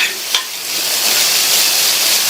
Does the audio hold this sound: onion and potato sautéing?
yes